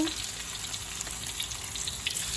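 Garlic, onion and ginger sauté in a pan with a continuous bright crackling sizzle, close and even, with faint irregular pops and stirring scrapes underneath.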